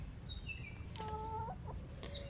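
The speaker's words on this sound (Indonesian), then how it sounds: "di sana ada ayam pelung" Pelung chicken clucking on a farm, a few short clucks and a brief squawk rising over steady background noise, fairly faint and alone with no talk.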